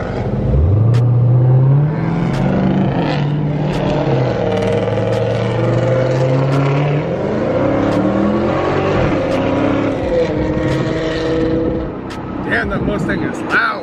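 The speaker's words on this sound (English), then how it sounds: "Damn, that Mustang is loud." A loud Ford Mustang engine rumbles and revs as it passes during a street car cruise, its deep roar rising and falling over several seconds and staying close and dominant throughout.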